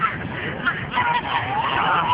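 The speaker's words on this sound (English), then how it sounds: "Got geese, pigeons, gooses, and chickens around this motherfucker." Geese honking among a mixed flock of pigeons, chickens, ducks and sparrows gathered around a woman feeding them, a dense overlapping chorus of nearby honks and calls that continues throughout.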